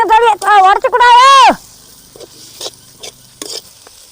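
Boiled potatoes and onions sautéed in a pan for a white potato kurma. A voice speaks at first, followed by sporadic scraping and stirring sounds from the pan.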